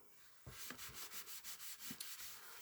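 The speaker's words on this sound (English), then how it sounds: "All I'm doing is rubbing that whole flower in nice circular motion" A paper towel rubs over a painted flower in circular motions, a quick run of soft, close swishing strokes, faint and rhythmic, with no voices.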